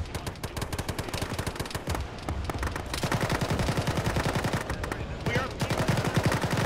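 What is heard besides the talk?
gunfire from a military video game firefight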